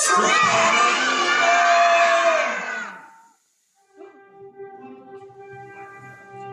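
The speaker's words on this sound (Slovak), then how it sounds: "všetci kričíme týmto smerom čo najhlasnejšie, aj rodičia" Loud group of children and parents at a Prague kids' concert yelling together in a sustained roar for about three seconds, then cutting off to silence, followed by softer tonal music or voices.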